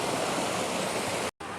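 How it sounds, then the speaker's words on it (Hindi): Water of the Banganga river, running low, flows in a steady close rush of broadband noise, broken by a brief moment of silence near the end. "अभी जो है पानी का फ़्लो बहुत ही कम है।"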